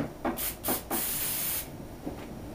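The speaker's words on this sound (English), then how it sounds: "Just go like this and spray in a circle" Carburetor cleaner sprayed onto a 2-cycle carburetor: three short hissing bursts, then one longer steady spray, loud and close, followed by quiet handling.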